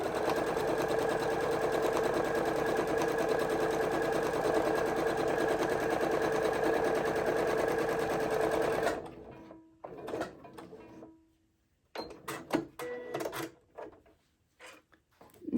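A sewing machine stitches steadily through thick, unmitered fabric corners, running loud and continuous for several seconds before breaking into short, halting bursts and clunks as it struggles past the bulk.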